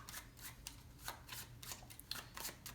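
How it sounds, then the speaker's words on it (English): Playing cards are riffled and shuffled in quick, crisp bursts of flicking and snapping, close and fairly soft, with no voices. "if you shuffle up the cards"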